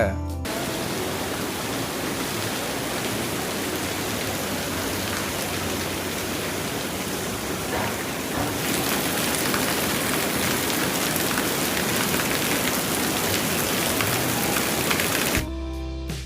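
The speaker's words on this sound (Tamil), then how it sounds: "இந்த இடத்துல போய் மழை பெய்கிற மாதிரியே சத்தம் கேட்குது நீங்களும் கேளுங்களேன் அந்த சத்தத்தை" A water feature in Singapore gives off a dense, steady hiss like falling rain. The sound is close and continuous, swelling a little louder partway through, with no talk.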